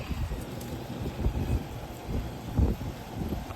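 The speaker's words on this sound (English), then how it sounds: "Oh, this wind is something else, I cannot tell you." Strong wind gusting around a garden where a small tomato plant is being buffeted, a steady low rumble of microphone buffeting that swells in several louder gusts.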